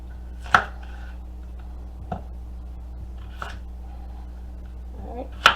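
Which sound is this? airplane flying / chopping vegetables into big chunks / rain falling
chopping vegetables into big chunks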